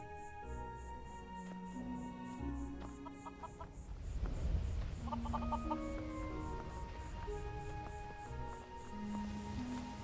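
Chickens clucking on a farm in the Skyrim Falskaar game world, with a steady chatter of soft clucks and calls throughout over faint ambient background, moderately quiet and without speech.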